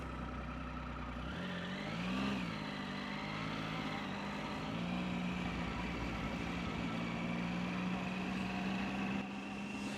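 A motorcycle engine starts, revs and settles into a steady mid-pitched drone while pulling away, heard alone at moderate distance.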